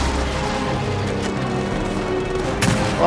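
Gunfire in the video game Gears of War 4, a dense ongoing stretch of loud shots and booms with a sharp burst near the end, no voices.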